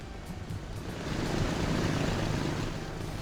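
Many airplanes fly around a busy airport in the game Transport Fever 2, a dense, continuous engine roar that swells slightly midway and stays loud throughout.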